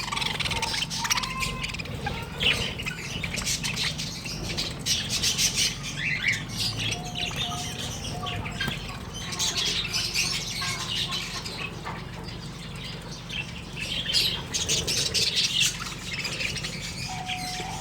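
Pet parrots feeding on grain, with scattered squawks and chirps over a constant rustling, nearby and overlapping throughout.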